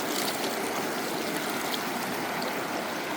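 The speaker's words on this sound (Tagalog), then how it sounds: "Lagas-las ng tubig. Malakas talaga." A strong stream rushes in a continuous, loud, broadband roar of churning water, close by and steady throughout with no voices.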